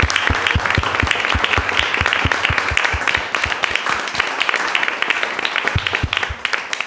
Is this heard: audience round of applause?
yes